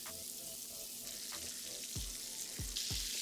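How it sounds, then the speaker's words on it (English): Andouille sausage browning in a pan for Cajun shrimp and grits, a soft low sizzle broken by a few dull thumps and scrapes of a utensil toward the end, with no voices. "cook the sausage down till it's nice and golden brown"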